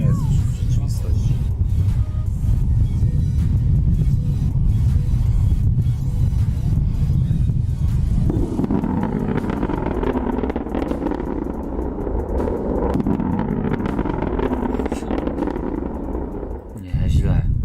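A rocket-powered spaceship descends and lands on its engine, giving a loud, continuous rumbling roar that shifts to a brighter, harsher tone partway through, with talk mixed over it.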